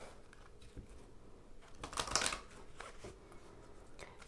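Tarot cards are shuffled softly in a quick riffling burst, with a few light taps and flicks before and after, quiet and close.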